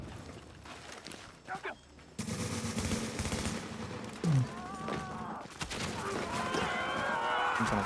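Video game gunfire crackles in rapid automatic bursts, dense and sustained, mixed with other in-game noise and a few sharp louder hits, moderately loud and close.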